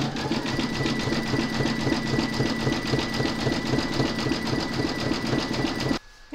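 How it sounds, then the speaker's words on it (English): An embroidery machine runs a fast, steady zigzag stitch along a raw fabric edge during an in-the-hoop medical rescue pouch project, its rapid rhythmic needle clatter loud and even until it stops abruptly near the end. "you're going to stitch round number 7, and that's going to zigzag the raw edge here"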